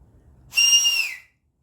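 A single clear whistle, a high steady tone held for about two-thirds of a second before cutting off, close and fairly loud, alone after a brief quiet murmur.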